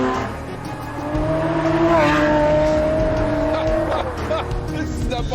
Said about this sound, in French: J'ai jamais entendu un moteur rugir autant.